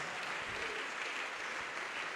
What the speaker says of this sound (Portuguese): E vamos aplaudir mais.